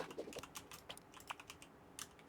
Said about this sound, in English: if you guys hear my keyboard, I apologize.